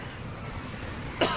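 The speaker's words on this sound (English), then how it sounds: "Sorry, I had that cough." One short, abrupt cough at the end of a quiet stretch during a StarCraft II esports tournament broadcast, close to the microphone.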